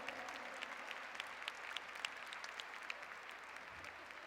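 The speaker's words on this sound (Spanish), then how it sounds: "aplaudamos fuertemente a Beatriz por esta excelente" Applause from the audience at a world congress on early childhood public policy in Puebla fills the clip, a dense, even patter of many hands clapping at a moderate distance, with no one speaking over it.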